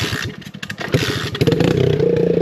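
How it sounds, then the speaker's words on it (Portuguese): A motorcycle engine on an off-road trail, running rough and faltering, sputters and revs unevenly up close, then settles into a steadier loud drone. "Essa diaba dessa moto começou a dar pau."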